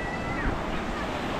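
Sea waves wash steadily onto a beach in La Paz, Baja California Sur, under gusty wind buffeting the microphone, with a possible faint voice in the background.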